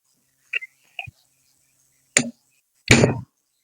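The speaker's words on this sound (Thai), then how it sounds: "ขั้นตอนในการตอกเหล็กเหลี่ยมเนาะตอกประกบลงแบบนี้ก็ได้" A square steel bar is hammered by hand while repairing a tire, giving a few sharp, separate metallic knocks spaced unevenly, close and loud against silence, the last strike ringing slightly longer.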